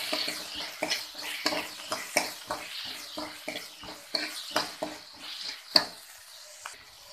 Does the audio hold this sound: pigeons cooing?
no